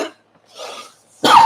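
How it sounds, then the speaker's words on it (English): A single sharp cough bursts out loud and close at the end, preceded by a short breathy throat sound and brief silence, during a sports card break. "Where did this cough come from all of a sudden?"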